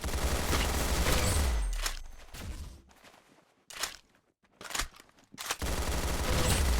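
Rapid automatic gunfire rattles in a shooter video game, a long loud burst followed by several shorter separated volleys and bursts, close and sharp with no talking.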